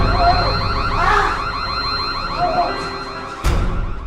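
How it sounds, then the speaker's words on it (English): A car alarm triggered by a remote in a break-in thriller film blares loud and high-pitched, warbling in repeated cycles with a sharp jolt near the end. "she grabs it and activates the alarm."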